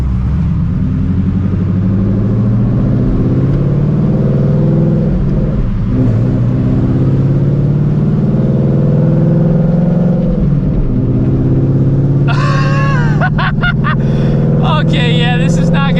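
An 800 hp Shelby GT350 Mustang with a new exhaust setup idles and revs loudly, its deep droning note rising and falling in sweeps, with people talking over the engine near the end.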